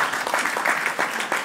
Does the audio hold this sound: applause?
yes